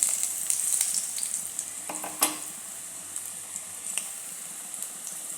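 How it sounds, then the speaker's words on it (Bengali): Elephant foot yam koftas fry in hot oil with a steady, close sizzle, broken by scattered crackles and one sharper pop, and no talking. "দেখুন কি সুন্দর করে ভাজা হয়ে যাচ্ছে।"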